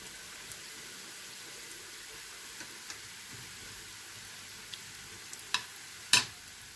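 Date dessert (hurma tatlısı) dough fries in hot oil with a quiet, steady sizzle, broken by a few sharp clinks and bangs near the end.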